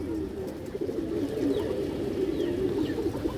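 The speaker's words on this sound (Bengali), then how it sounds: "খুবই চঞ্চল একটা কবুতর" A pigeon coos steadily in a low, continuous murmur, close by and unbroken, with no voices.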